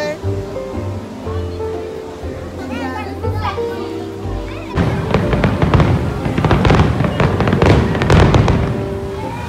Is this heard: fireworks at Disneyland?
yes